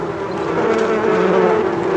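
Honeybees hum steadily around their hive, a dense, continuous buzz of many insects close by and loud, with no break or voices.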